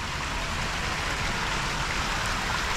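A downpour in Rome falls hard onto the ground and a fountain area, making a continuous, loud, close hiss of rain with no pauses and no voices.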